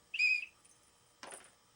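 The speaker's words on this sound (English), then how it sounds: "A whistle." A small emergency whistle from a first aid kit gives one short, shrill blast, followed after a pause by a brief breathy puff; quiet room, no talking.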